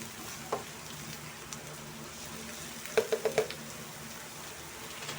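Onion frying in a pan for pork sisig, a soft steady sizzle close by with a few sharp utensil taps and a quick cluster of clicks, no talking.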